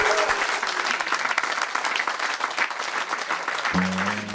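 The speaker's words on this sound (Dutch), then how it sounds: "applaus voor deze meid" An audience at a fan event claps for a girl on stage, a dense, sustained burst of applause that fills the room, with music starting faintly as it fades at the end.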